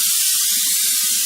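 Pam cooking spray is sprayed into a glass pan, one continuous, close, airy hiss with no pauses.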